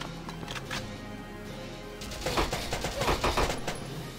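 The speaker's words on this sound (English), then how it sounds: "that machine gun fire might take out Alicia" Bursts of machine gun fire from Valkyria Chronicles Remastered, a quieter stretch of rattling shots and then a denser, louder volley of rapid gunfire set against a low game soundtrack hum.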